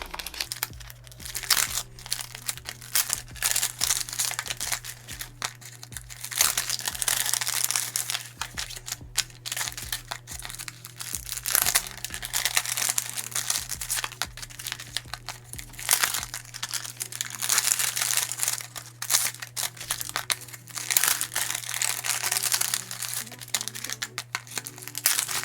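Paper cash envelopes are pulled out and handled, a continuous close crinkling and rustling with crisp snaps and crunches running throughout, over a faint steady hum, with no talk.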